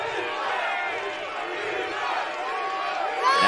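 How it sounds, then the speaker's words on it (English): A football crowd at the LA Coliseum roars and chants loudly in the stands, a dense wall of cheering voices that swells near the end. "as we hear this crowd finally come to life here at the LA Coliseum"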